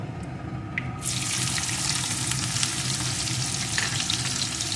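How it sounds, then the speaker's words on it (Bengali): Chopped onion hits hot oil in a pan with a dried red chilli and fries in a loud, steady sizzle that starts about a second in and continues with crackles to the end. No one talks. "পেঁয়াজ কুচিটা একটু লাল লাল করে ভেজে নেব"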